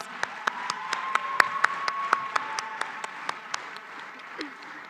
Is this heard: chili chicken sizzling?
no